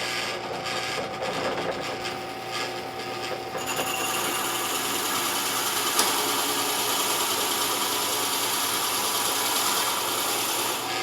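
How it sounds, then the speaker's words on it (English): A power tool cuts a circle into wood for napkin rings, a steady, loud mechanical whirring and rattling that holds throughout, with a brief sharp knock partway through and no talking. "I'm going to go ahead and cut this circle in the wood"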